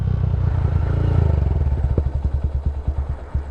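A motorcycle engine runs close by at low speed while the rider turns around, first as a steady putter and then as a rhythmic, pulsing chug that clatters on each beat.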